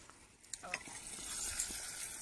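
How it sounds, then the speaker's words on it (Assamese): Potatoes frying in a pan, a faint, continuous sizzle with a few small pops and stirring ticks early on, a voice murmuring briefly underneath. "তুমি আলুটো ভাজি আছা"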